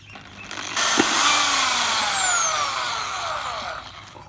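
A drilling machine boring a hole through a plastic bottle lid, a loud high whining bore that starts abruptly and holds steady for about three seconds before easing off, with no talk over it.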